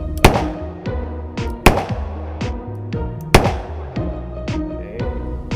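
A revolver fires Remington bullets in three loud, sharp shots spaced over several seconds, each cracking close by and ringing into a metallic decay, with quieter clicks and clatter between them.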